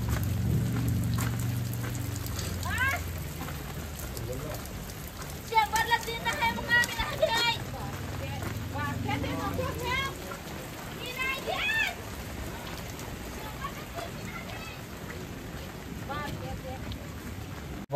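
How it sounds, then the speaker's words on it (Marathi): Heavy monsoon rain pours steadily over flooded rice paddies in a village, a dense, constant hiss with voices talking over it at times. "पाऊस एवढा जोरात चालू आहे ना की भात सगळा बुडून राहिलाय."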